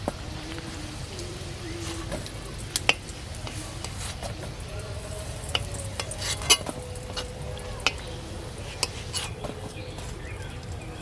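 Khaja pastry pieces frying in oil in a home kitchen, a soft continuous sizzle broken by sharp clicks and scrapes of a utensil stirring against the pan, with faint birdsong in the background.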